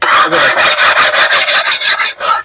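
A stone is scraped hard across a stone-body ceramic wall tile from Khadim Ceramics, about a dozen quick, loud, gritty rasping strokes in a steady back-and-forth rhythm, close up and alone.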